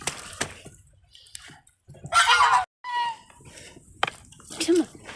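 Chickens cluck and squawk in a muddy chicken run, with brief loud bursts between quieter stretches, while a person talks nearby.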